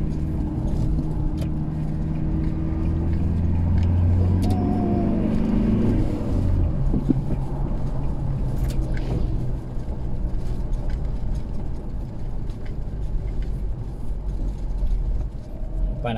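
A Toyota Hilux engine labors in second gear up a very steep uphill road in Zamboanga del Sur, a loud continuous low rumble with some knocks and rattles and no speech.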